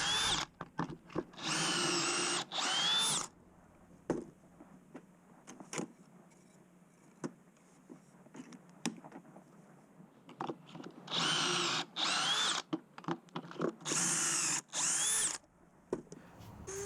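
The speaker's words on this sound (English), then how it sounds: "I want to put the pocket holes in." A power drill bores pocket holes in wood for a radiator cover, sounding in loud whirring bursts of about a second each, with quieter handling knocks and clatter between them and a final cluster of several closely spaced drilling runs.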